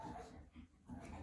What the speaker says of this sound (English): That dog is so dramatic